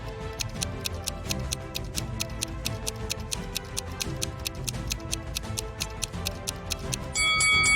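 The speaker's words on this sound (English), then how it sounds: "the timer goes on ticking" A game countdown timer ticks steadily in a cave full of traps, sharp regular clicks running on over a dense musical bed, with a brighter tone entering near the end.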